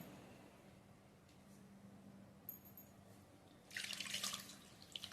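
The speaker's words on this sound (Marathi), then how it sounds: "ह्याच्यावर मी आता फ्रीज मधलं पाणी ओतणार आहे" Chilled water from the fridge poured over fresh paneer wrapped in a white cloth, a faint low hum giving way near the end to a brief, brighter splashing pour.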